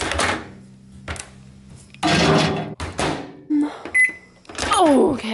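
A microwave oven is used for cookies, with a steady low hum running beneath intermittent talk, clattering and a door-like thump.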